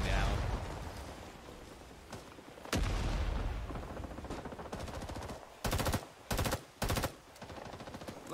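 Fully automatic gunfire in the Vietnam War shooter Rising Storm 2: Vietnam, starting with a booming blast, then rapid sustained bursts and three short sharp volleys near the end, loud and close with voices around them.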